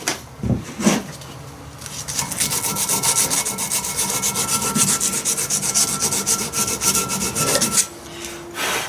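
Hand sanding a metal part for a backhoe on a 110TLB tractor loader with sandpaper: a couple of knocks, then a steady, close, raspy rubbing in quick repeated back-and-forth strokes that runs several seconds before stopping.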